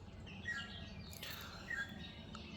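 Several birds call near fruit trees at a holiday retreat: two brief, thin chirps stand out, faint and fairly distant over a steady outdoor hiss, with no talking.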